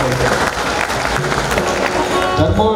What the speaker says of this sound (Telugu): మన గురువు గారికి ఒకసారి చప్పట్లతో ధన్యవాదాలు తెలియజేస్తున్నాను